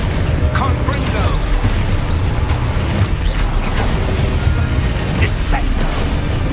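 Confringo, a fiery blasting spell cast in a Harry Potter video game, lands as dense crackling and booming bursts over a constant low rumble, with sharp impacts scattered through several seconds of busy combat noise.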